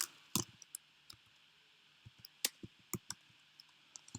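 Sparse key clicks from someone typing text into a Keynote slide on a computer keyboard, a handful of quiet, irregular taps spread out with pauses between them, close and alone.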